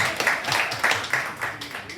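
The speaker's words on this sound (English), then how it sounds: "Let's give him a clap." A small audience claps for a beekeeping demonstrator in a brisk, uneven run of distinct hand claps, moderately close, with individual sharp strikes standing out from the scattered patter.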